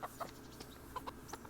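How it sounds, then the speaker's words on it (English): Several chickens cluck in short, soft, scattered bursts nearby in a medieval village in Kingdom Come: Deliverance, with no speech over them. "A lot more chickens over this way."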